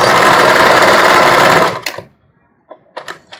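A sewing machine runs loud and steady in one continuous whir while stitching in reverse on a bra, then stops abruptly, followed by a few soft clicks and handling taps.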